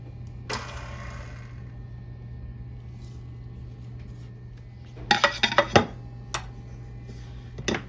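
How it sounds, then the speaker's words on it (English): A mixing bowl of buttermilk cookie dough being scraped down. A low steady hum runs underneath, with a few soft scrapes and then a cluster of sharp clinks and knocks from a utensil against the bowl, no voices. "I'm just gonna scrape this down a little bit, scrape the sides"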